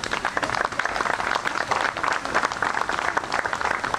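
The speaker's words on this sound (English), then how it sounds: "Give them another round of applause." Crowd giving a round of applause at an outdoor civic fountain-greening celebration in Savannah, dense sustained clapping from many people, close and loud, continuing without pause for several seconds.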